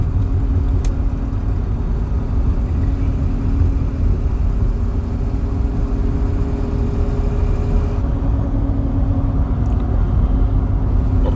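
A 2002 Ford F-350 pickup cruises along a road after an alignment, giving a steady, continuous low rumble of engine and tire noise from inside the cab with no speech.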